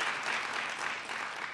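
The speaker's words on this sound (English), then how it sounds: "It's okay, you can clap for yourselves." Dense applause from an audience at an award ceremony honoring women veterans, a continuous wash of many clapping hands heard from a distance, steady and fairly faint.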